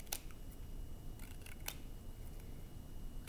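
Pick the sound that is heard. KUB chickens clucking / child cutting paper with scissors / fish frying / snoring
child cutting paper with scissors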